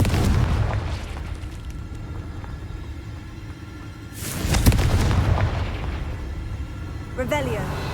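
The Confringo spell in the game Hogwarts Legacy detonates in a single loud, booming blast partway through, rumbling briefly before fading back into quieter game ambience, with a voice heard near the end.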